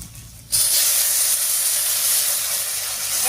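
Ground spice paste hits a hot pan of fried pumpkin and potato, setting off a sudden loud, hissing sizzle that starts abruptly after a quiet moment and keeps steaming strongly.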